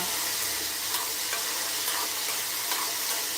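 Sprouted chickpeas roasting in oil in a pan, making a steady soft sizzle with light stirring rustles throughout, fairly quiet and with no talking.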